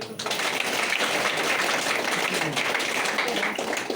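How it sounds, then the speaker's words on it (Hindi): Audience applause at a business meeting, continuous loud clapping from a crowd sustained evenly from start to finish with no pauses. "फिर से जोरदार ताली हो जाएगी"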